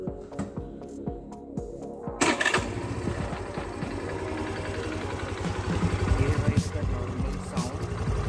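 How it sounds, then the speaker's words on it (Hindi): Hero Maestro Edge 125 BS6 scooter engine starts after a few clicks, then idles and revs under the throttle close by, with a steady buzzing drone and small swells in pitch. "अभी आपको इसका इंजन का थ्रॉटल भी भाई सुना देता हूँ आपको अभी"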